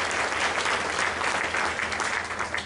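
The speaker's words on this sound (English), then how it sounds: "Give them a big round of applause." A large audience gives veterans a dense, sustained round of applause that stays steady and fairly loud for the whole stretch, with no voice over it.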